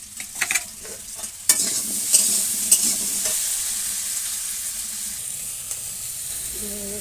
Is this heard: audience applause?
no